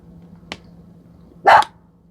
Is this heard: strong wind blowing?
no